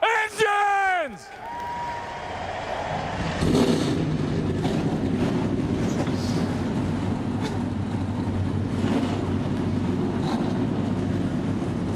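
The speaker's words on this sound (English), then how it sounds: "Drivers, start your engines!" At Daytona, NASCAR Xfinity stock car engines fire up together after a crowd's whooping cheer, settling into a loud, dense rumble that holds steady for the rest of the clip.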